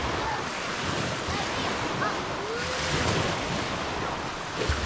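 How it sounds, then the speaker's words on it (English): Strong wind roars at an island campsite by the water on a Wisconsin lake shore, steady broadband buffeting across the mic with surf-like rushing, continuous and loud throughout. "It's really windy"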